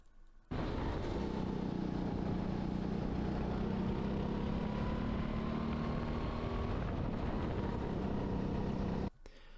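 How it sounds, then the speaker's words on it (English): A racing kart engine drones loud and steady at speed, its pitch sliding a little as the driver eases off the throttle through a corner, and it cuts off abruptly near the end. "You could hear me lifting a bit off the throttle."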